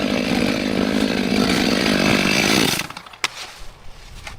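A chainsaw cuts through tree logs with a loud, steady, buzzing roar for nearly three seconds, then cuts off, leaving a few scattered knocks and clatter.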